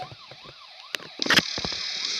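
A wailing siren rising and falling in a game scene, with sharp crashing impacts and noisy bursts cutting in midway.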